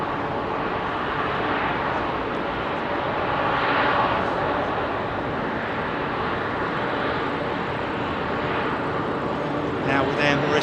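An Air Mauritius airliner at Heathrow produces a loud, continuous jet roar that swells slightly in the middle, with people talking beneath it.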